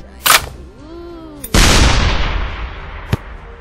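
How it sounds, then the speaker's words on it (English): Airstrike explosions in ShellShock Live come as a sharp blast, then a rising whistle and a big booming impact that slowly fades, followed by one more short crack. "Stone airstrike."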